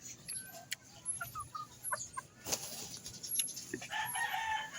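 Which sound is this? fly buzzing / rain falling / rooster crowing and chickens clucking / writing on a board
rooster crowing and chickens clucking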